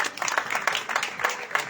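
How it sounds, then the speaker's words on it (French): Audience applause for the sound technician at a live evening event, a brief burst of scattered clapping at moderate level with some voices in the background. "on peut applaudir Ophélie qui est à la sono ce soir"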